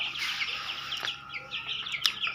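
Silkie and feather-footed chickens cluck and chirp softly at close range, a steady scatter of short calls over low background noise with no talking.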